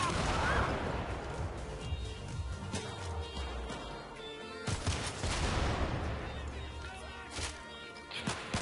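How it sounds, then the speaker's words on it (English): Gunfire in the Syndicate video game, a running firefight of rapid shots and sharp cracks with heavier bursts midway, speech faintly mixed in. "stop shooting me. Who's shooting me?"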